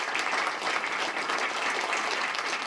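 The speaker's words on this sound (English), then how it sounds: "a standing ovation." A crowd gives a provincial premier a standing ovation at a labour reform announcement, with dense, sustained clapping that stays loud and even throughout, no voices on top.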